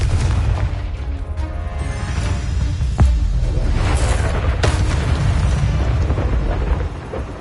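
A Confringo spell from the Hogwarts Legacy video game erupts in a loud, sustained explosive roar with a sharp burst near the middle, deep rumbling throughout.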